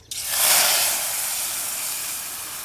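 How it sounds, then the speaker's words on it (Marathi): A sudden loud sizzling hiss as mustard seeds hit hot oil, holding steady and easing off only slightly. "आता मोहरी चांगली तडतडून घ्यायची"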